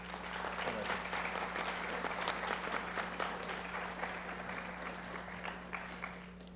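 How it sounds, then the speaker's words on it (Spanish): A seated audience at a cybercrime and cybersecurity law panel gives warm applause for a panelist, sustained crowded clapping over a steady low hum, fading slightly toward the end. "le brindemos un caluroso aplauso"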